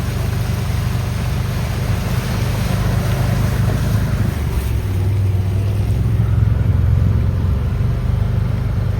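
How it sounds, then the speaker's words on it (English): Water pours out of a breached detention pond in a steady, loud rushing wash that holds the same level throughout, with a low rumble underneath and no voices. "Water running down here."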